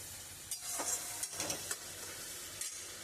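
Chicken balls in spicy gravy are stirred in a pan, a faint soft sizzle punctuated by a few brief scraping strokes of the spoon, quiet and close with no speech.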